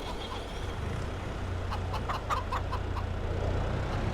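Chickens in a farming video game, clucking in a short rhythmic cluster of calls over a constant low drone of vehicle engine hum.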